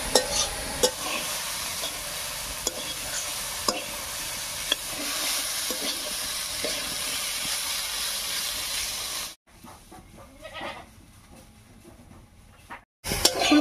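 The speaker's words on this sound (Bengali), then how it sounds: "এবারে বেশ কিছুক্ষণ রান্না করে ফুলকপিটা ভাজা ভাজা করে নেব।" Cauliflower pieces with salt and turmeric sizzle steadily in a pan while a utensil stirs and scrapes them, the frying dropping away briefly before returning.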